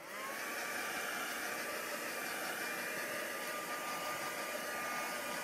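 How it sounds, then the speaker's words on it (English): A heat gun blows steadily over a daisy craft project with a faux-bleach effect, a continuous close whooshing roar with a faint high whine running through it and no talking. "I'll just quickly pop the heat gun over that just to do a quick"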